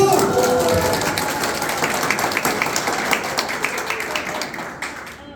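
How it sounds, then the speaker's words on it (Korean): Audience applause at the launch ceremony of a taekwondo team for people with developmental disabilities in Cheorwon, a full, loud burst of many hands clapping that stays dense and slowly fades over several seconds. "박수!"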